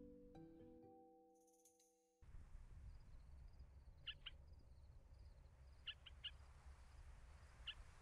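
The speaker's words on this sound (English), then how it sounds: "the bird sound kind of sounds like a squeegee" Short, high squeaky bird calls ring out a few times over a steady low rumble, sounding somewhat distant.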